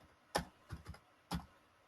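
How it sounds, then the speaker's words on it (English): A few separate keystrokes on a computer keyboard while typing a code comment, three or four sharp clicks spaced unevenly across two seconds in a quiet room. "let me type in this comment"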